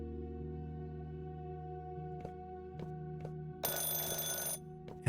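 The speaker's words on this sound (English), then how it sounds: "And the phone is ringing again." Telephone ringing in the video game Firework, a steady electronic bell tone repeating over a constant background hum, with a louder bright burst of ringing near the end.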